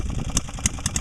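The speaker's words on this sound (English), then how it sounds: "1924 Fairbanks Morse Model Z, rated for 2 horsepower" A 1924 Fairbanks Morse Model Z stationary engine rated at 2 horsepower runs, a low steady chug with sharp, evenly spaced ticks or clicks standing out above it, close and fairly loud.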